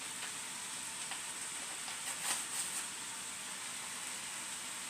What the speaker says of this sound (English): I'm shouting over the sizzling of the vegetables